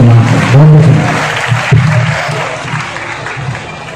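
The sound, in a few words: audience applause at a comedy poetry event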